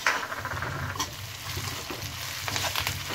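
Ten or twelve curry leaves drop into hot oil over dark-browned onions in a pan, setting off a loud, close, continuous crackling sizzle with stirring scrapes throughout.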